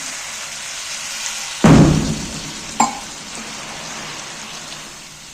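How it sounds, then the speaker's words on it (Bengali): Water splashes into a pan of frying masala for a potato pakora curry, one loud gush followed by a brief second splash and a soft sizzle that fades away. No voices are present. "এইবার কিন্তু আমি জল দিয়ে দিচ্ছি"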